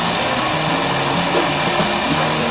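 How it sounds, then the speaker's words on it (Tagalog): A hot air blower used to heat-seal bottles of homemade chocolate hazelnut spread gives a steady, loud, close whirring blast of air with a continuous fan hum and no pauses. "gagamit po tayo ng ating hot air blower"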